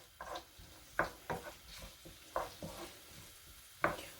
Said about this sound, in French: Donc je fais revenir mes oignons, tout doucement